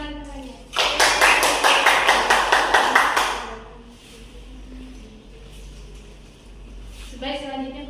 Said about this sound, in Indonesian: berikan tepuk tangan pada teman-temannya